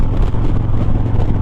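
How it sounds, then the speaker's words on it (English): Strong wind gusts buffet a vehicle riding past tractor trailers, a steady loud rumbling roar of wind noise throughout with no break. "The wind is high, blowing us around everywhere, especially when we pass by these trucks"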